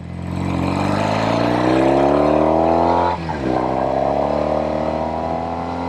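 A 1973 Norton 850 Commando vintage British motorcycle ridden hard, its engine drone climbing steadily in pitch under acceleration, dipping briefly at a gear change, then rising again, loud and close throughout.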